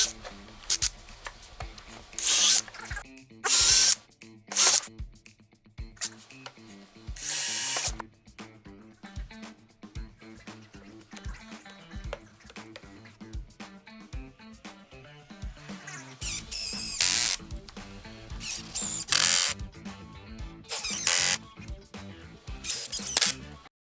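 A power driver sends screws into the cross pieces of a cedar planter box frame, with short whirring bursts repeating at irregular intervals, clustered early and again near the end, close and fairly loud over quiet handling noise.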